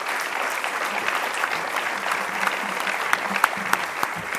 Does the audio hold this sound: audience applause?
yes